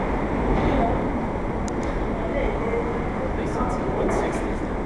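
A New York subway train rumbles through West 4th Street station on the IND 6th Avenue Line, with a loud, continuous low roar and faint squeals of wheels on track, and voices talking over it.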